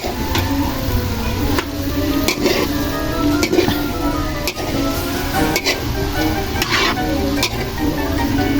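Balbacua beef skin stew stirred in a pot, a sizzling, bubbling bed broken by repeated sharp clinks and scrapes of a utensil against the metal, close and fairly loud.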